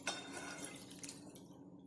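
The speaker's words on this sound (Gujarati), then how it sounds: "આપણે ગેસ પર ફરી એક વઘારીઓ મૂકીશું અને તેની અંદર 1 વાટકી પાણી એડ કરીશું" A bowlful of water pours into a small tempering pan. There is a quiet, brief splash and trickle with faint drips, close by, then it fades out.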